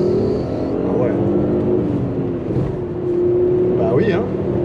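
A Fiat Coupé with a turbocharged 20-valve five-cylinder engine runs steadily from inside the cabin, a loud, continuous drone with slight swells while people talk over it.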